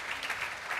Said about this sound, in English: please give a quick round of applause for our panelists for joining us up here